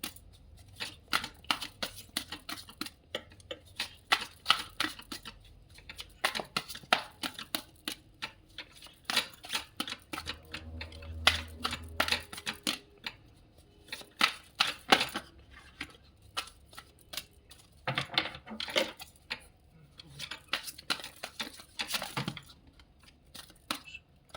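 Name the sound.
tarot cards being shuffled and dropping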